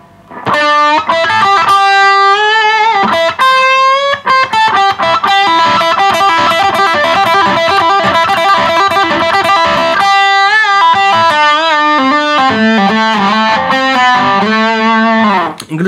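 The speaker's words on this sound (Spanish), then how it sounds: "este sonido es muy propio en realidad del rock bastante clásico" Distorted electric guitar tone in a classic rock style, played through an effects unit, sounds loud and continuous with sustained chords and melodic lines throughout, no voice over it.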